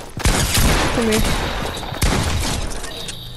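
Turret fire in a multiplayer shooter: a loud, sharp shot opens, then a rough rattle of gunfire with a second distinct blast midway, with a brief electronic chirp and ambient game noise.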